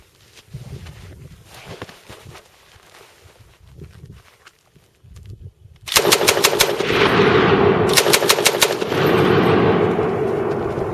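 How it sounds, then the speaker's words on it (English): A Japanese Type 92 heavy machine gun fires ten rounds at a target 100 yards downrange, loud sharp reports in two rapid bursts, after a quiet stretch of faint handling noise. "now we're going to shoot 10 rounds into a target 100 yards downrange"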